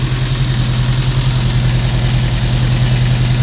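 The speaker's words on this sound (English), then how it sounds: "I will turn the engine off, and I will tell you a little bit more about the tuning" A Volvo 145 engine idles on twin Weber carburetors, a steady, loud, low mechanical rumble with an even firing pulse and faint ticking, continuous and close, no talking.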